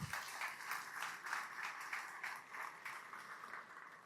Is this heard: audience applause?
yes